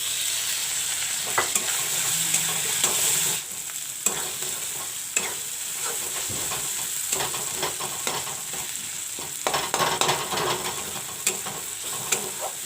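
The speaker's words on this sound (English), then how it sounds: "Put in some chopped tomatoes." Chopped tomatoes fry in a pan for a cabbage curry, giving a steady, close sizzle throughout. Intermittent clicks and knocks of stirring sound over it.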